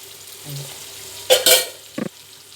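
Onion sizzling in a pan for egg bhurji, a quiet steady fry broken by a couple of louder stirring scrapes and a brief clatter of utensil against the pan, close by with no speech.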